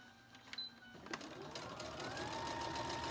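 A sewing machine stitches fabric along a marked line for a beginner's tween clothing project. After a few light clicks the motor starts near 1.2 seconds and then runs steadily and close by, with no talk.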